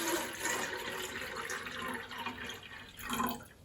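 Water is poured from a vessel into the reservoir of a tea-making alarm clock, a short, continuous splashing trickle heard up close, with no talk.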